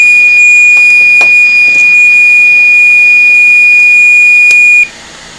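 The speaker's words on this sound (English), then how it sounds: "Have some nice annoying beep." Board repair equipment on a Lenovo Yoga laptop repair bench gives off a loud, steady, high-pitched continuous beep that holds for about five seconds and then cuts off abruptly.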